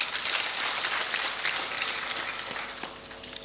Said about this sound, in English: I think they deserve a clap.